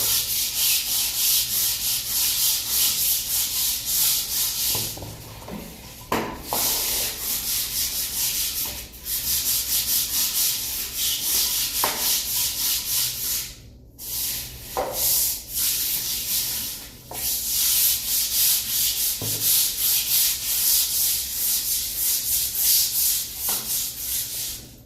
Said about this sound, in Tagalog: Kaya kuskusin na lang natin.